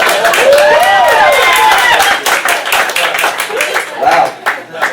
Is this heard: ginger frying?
no